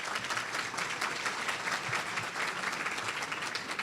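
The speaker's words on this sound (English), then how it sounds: "let's give all of these people a big round of applause for being here" Audience at a convention luncheon giving a sustained round of applause, dense continuous clapping from many hands heard somewhat distantly at an even level throughout.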